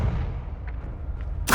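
A Confringo fire spell from Hogwarts Legacy, a low booming blast that rumbles steadily through most of the moment, then a sharp bright crackle bursts in right at the end.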